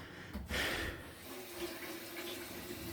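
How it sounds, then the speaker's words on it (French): Hands being rinsed under a running kitchen tap while cooking, a steady faint stream of water splashing throughout, louder at the start and then settling into an even trickle. "Une fois que c'est fait, vous rincez vos mains."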